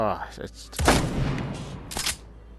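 A shotgun fires once close by as a sharp, loud boom with a brief rumbling tail, followed by a fainter crack, and talk in the background.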